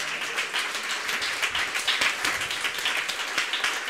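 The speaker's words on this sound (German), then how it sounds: "Ein herzlichen Applaus" Warm audience applause at a museum night event, steady, close-sounding clapping from a modest crowd that continues evenly for several seconds without talk.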